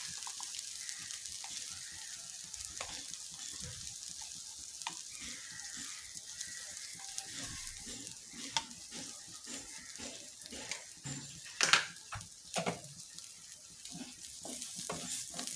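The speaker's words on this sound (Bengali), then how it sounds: "দিয়ে দিব এখানে সামান্য পরিমাণে ঘি।" Ghee sizzling in a pan with rice for white pulao, a steady close frying hiss with scattered crackles and occasional stirring scrapes.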